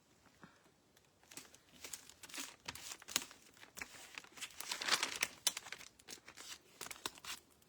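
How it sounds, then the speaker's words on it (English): Adhesive tape crinkling and being pressed on during a Dollar Tree Easter tic-tac-toe craft, a close run of irregular crackles and sharp rustles that thickens in the middle, no talking. "Then I just put another piece of tape"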